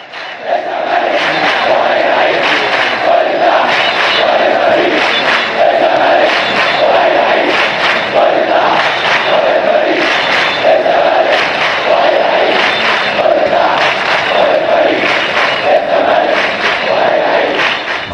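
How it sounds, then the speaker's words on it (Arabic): Zamalek football supporters at an Egypt Cup match roar and chant in a dense, steady crowd din, with rhythmic chant pulses repeating throughout and no pause. "واحنا بنسمع هتافات وزئير جماهير الزمالك"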